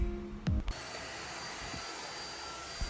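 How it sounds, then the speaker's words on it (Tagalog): A Deerma DX700 vacuum cleaner runs steadily while cleaning a floor at home. Its whine is loud and close and holds constant after a couple of bumping knocks at the start. "So let's clean together and see kung gaano ka-effective ang vacuum na to."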